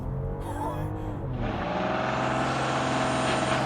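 A 2024 BMW X5 xDrive40i with a turbocharged 3-liter engine launches hard from a brake-boost start, a quieter idle swelling after a second into a loud, sustained, rising acceleration roar.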